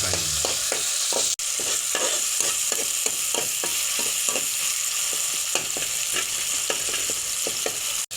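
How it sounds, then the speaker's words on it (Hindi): Medium tomatoes frying with garlic-ginger paste in a pan, a steady close sizzle broken by regular scraping taps of a spoon stirring, with no talk. "अब हम इसको इसके साथ फ्राई करेंगे जब तक टमाटर सॉफ्ट नहीं हो जाते"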